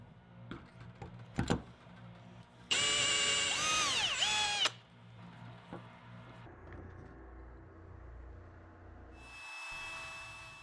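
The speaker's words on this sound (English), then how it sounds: "I'll drill halfway through the door with a 9/32 drill bit." A drill driving a 9/32 bit partway into a door to fit a Soss UltraLatch. It gives one loud, high whine of about two seconds that bends in pitch, with quieter clicks and handling noise around it and no voices.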